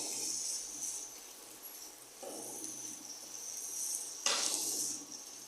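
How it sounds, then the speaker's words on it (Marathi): Mung beans are sautéed in a pan, giving a steady sizzle under repeated scraping stir strokes, with one louder scrape near the end and no talking. "मूग चांगले परतून घेतले पाहिजे"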